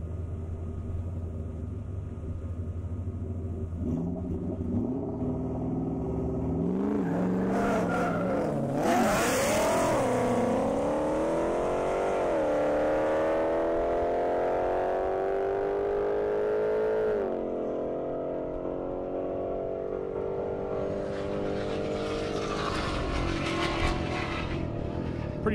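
A Ford Mustang and a GT500 Mustang drag race on an airstrip, engines revving hard and rising through repeated gear changes with sharp downshift dips, a loud, continuous roar sweeping past over about twenty-five seconds.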